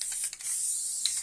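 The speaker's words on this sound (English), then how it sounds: "I would just use my basting spray just to" Basting spray is sprayed onto quilt fabric in a few short aerosol hisses, close and sharp, with a brief pause between the first puffs and then a longer continuous spray.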